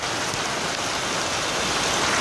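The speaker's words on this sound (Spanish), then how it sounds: "Fuerte lluvia este 6 de junio de 2019 acá en Siloé." Heavy rain falls in Siloé, a dense, steady hiss of drops close by with no break. There is no talk over it.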